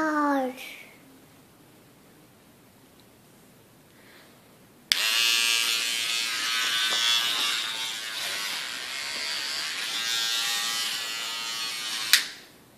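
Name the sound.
toothbrush brushing teeth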